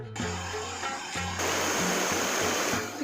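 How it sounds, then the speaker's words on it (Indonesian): Rushing water over the rocky rapids of the Moku River, a steady broadband roar that swells louder partway through and holds, close and continuous with no voices. "Ini Sungai Moku ini sangat cantik tuh, banyak bebatuan riam-riam di sini."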